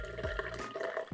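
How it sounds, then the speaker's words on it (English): Soda streams into a cocktail glass for a White Linen drink, a short close splashing pour with a fizzy, liquid gurgle. "just grab my soda and then I pour it directly in the glass"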